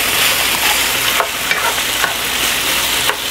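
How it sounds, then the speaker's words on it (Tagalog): Chicken meat fries in a pan with a loud, dense, continuous sizzle, close up, with a few faint stirring taps. "saka natin ipiprito yung meat"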